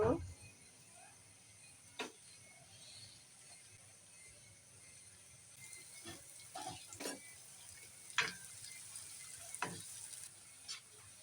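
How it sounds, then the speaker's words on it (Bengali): Onions frying in a pan for beresta for chicken tehari give a quiet, steady sizzle, with scattered sharp clicks and scrapes of a utensil; a voice may murmur faintly underneath. "পেঁয়াজ বেরস্তাটা আগে ভেজে নেব"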